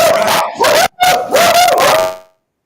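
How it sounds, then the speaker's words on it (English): Several loud, close dog barks and yips mixed with whining howls, stopping abruptly into silence. "See, they're barking at you"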